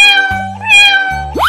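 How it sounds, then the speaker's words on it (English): A cat gives a loud, clear meow, a drawn-out tonal call heard up close, accompanied by bright synthetic musical tones in a cartoon-style animal sequence. "Cat."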